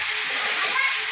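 Chicken curry simmering in a covered pot, a loud, steady, close bubbling hiss of steam that holds evenly for about a second.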